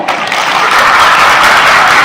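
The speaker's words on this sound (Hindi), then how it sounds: "सबसे पहले सेक्शन ए, जोरदार तालियां" Loud, dense applause from one section of a school gathering audience, a continuous roar of many hands clapping close and steady throughout.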